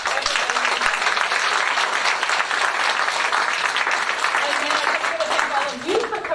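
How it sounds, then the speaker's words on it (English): An audience at a city committee information session gives a sustained round of applause, steady hand-clapping from a roomful of people with a few voices over it near the end. "So I just want to give one big round of applause and thank you for everybody."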